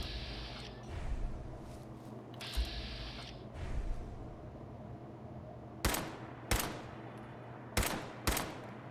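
Gunfire in the video game Fallout 4, played in survival mode: four sharp, loud shots at uneven intervals follow a stretch of low rumbling game ambience.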